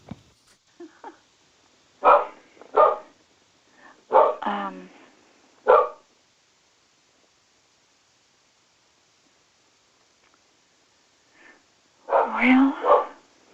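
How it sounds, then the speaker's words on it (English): A dog barks in short, loud bursts, a few spaced clusters early and another run near the end, with long quiet gaps between them. "My dog is voicing her opinion."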